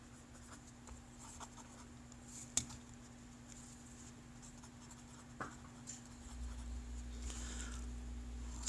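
A figure is drawn by hand, with faint scratchy pen or marker strokes and a few sharp taps against a quiet room hum, growing slightly louder toward the end.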